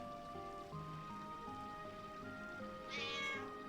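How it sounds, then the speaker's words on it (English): A cat in Final Fantasy IX gives a short meow near the end, heard over a looping in-game melody and a soft rain-like background. "Meow."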